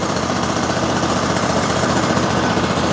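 A DiamaPro ROG-60 grinder's engine runs at a steady idle with its plates spinning, producing a constant close, rattly drone with no talking.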